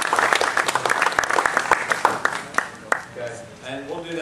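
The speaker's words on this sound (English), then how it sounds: "give yourself a round of applause" Seminar audience of about a hundred people at a sportsman fishing seminar on cobia, applauding in a dense, sustained burst of clapping that thins out toward the end, with some voices mixed in.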